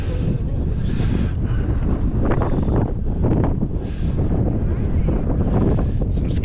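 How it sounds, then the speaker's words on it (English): Strong gusting wind buffets the microphone on the exposed upper trail of Angels Landing beyond Scouts Lookout, a loud continuous rumble with a few faint voices underneath. "We got quite a bit of wind up here, but not bad."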